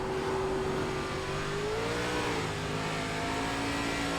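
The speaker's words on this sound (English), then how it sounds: "you see how much I'm spinning the tires over the hill" An ARCA stock car in iRacing spins its tires over a hill at Lime Rock Park, with a loud, continuous engine drone whose pitch rises, dips and climbs again, all alone without talk.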